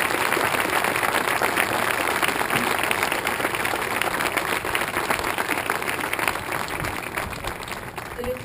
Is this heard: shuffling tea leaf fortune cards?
no